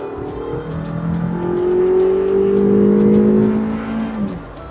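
Toyota RAV4 engine in sport mode revving up, a steady rising drone that builds and holds before easing off, loud and close with no talk.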